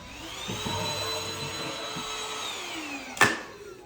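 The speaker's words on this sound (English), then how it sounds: "So I grab my vacuum." A vacuum cleaner runs with a steady high whine, its pitch shifting as it sucks up debris, ending with a sharp clack near the end.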